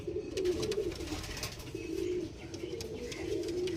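Pigeons cooing in soft, repeated low throaty calls, several birds overlapping with a steady murmuring rhythm, fairly close, with no talking.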